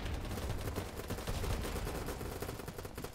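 Rapid, dense gunfire from a large-scale BattleBit Remastered firefight crackles continuously, overlapping bursts of automatic shots, loud and close throughout the short stretch, with no talking.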